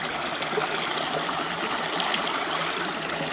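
Water rushes and trickles through a Keene A-51 sluice box set in a West Virginia creek, a steady, close, moderately loud wash of flowing water.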